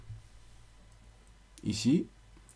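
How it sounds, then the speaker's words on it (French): Computer mouse clicked while building an app in Glide, a brief pair of crisp clicks standing out from an otherwise quiet room. "je clique dessus et j'ai mon image"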